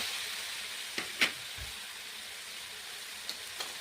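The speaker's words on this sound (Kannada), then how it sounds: "ಟೊಮೆಟೊ ಈರುಳ್ಳಿ ಬೆಳ್ಳುಳ್ಳಿ ಶುಂಠಿ ಎಲ್ಲ ಹಾಕಿ ಉರಿತಾ ಇದ್ದೀನಿ" Tomato, onion, garlic and ginger fry in a pan with a steady soft sizzle, broken by a few faint clicks of stirring.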